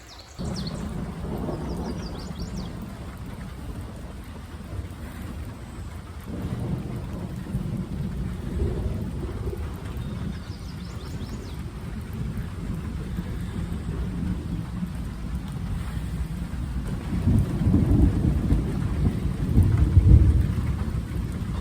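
Steady rain pours over deep, rolling rumbles of thunder during a thunderstorm on the Appalachian Trail in Connecticut, with the rumble swelling louder toward the end.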